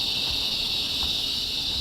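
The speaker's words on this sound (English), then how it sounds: "Do you hear the cicadas?" Cicadas buzzing outdoors as a continuous, steady high-pitched electric drone, fairly faint and unbroken throughout, with no talk.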